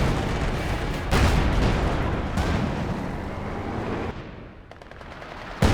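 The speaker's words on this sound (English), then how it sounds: "She goes down to the Zis barrage." Soviet ZiS field guns lay down an artillery barrage in the strategy game Company of Heroes 2, with loud booming blasts and rumbling impacts rolling one after another before the barrage thins out.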